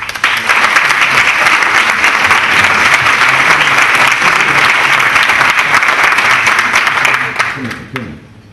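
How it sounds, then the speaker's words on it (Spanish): An audience at a debate on May 1968 bursts into sustained, dense applause for an arriving speaker, loud and continuous for several seconds before tapering off and fading out. "les dejo con Antonio Escotado, le damos un aplauso previo."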